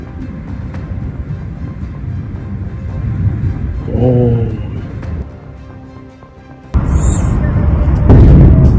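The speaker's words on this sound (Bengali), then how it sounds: "তেহরানের মেহরাবাদ আন্তর্জাতিক বিমানবন্দরে লাগাতার বোমাবর্ষণ" Bombing at Tehran's Mehrabad International Airport: heavy, rumbling booms and blasts roll in repeatedly, with a sudden loud burst late on and a dense, continuous low rumble beneath.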